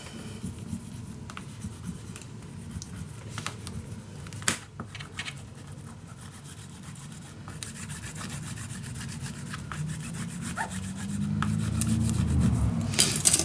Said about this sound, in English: Just burnish it down nicely so everything is nice attached to everything.